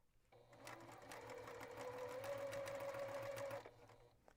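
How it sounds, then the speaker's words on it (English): A sewing machine stitches over a seam on a mystery quilt top, starting up, running steadily with a rising whine for about three seconds, then stopping, close and quiet, with no talk. "I want to make sure it's laying the right way before I sew over it."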